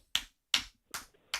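Four sharp, isolated hand claps or snaps, spaced about every 0.4 seconds, close and fairly quiet, with silence between them and no talking.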